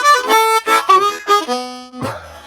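Slow blues harmonica lick in second position, sustained reedy bent notes in phrased breaths with a low bent note toward the end, played alone and close.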